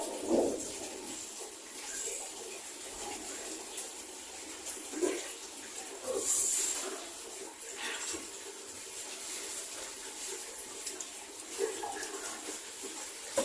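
Water splashes and trickles in uneven bursts, poured by hand over a body during a ritual washing, fairly quiet with no talking.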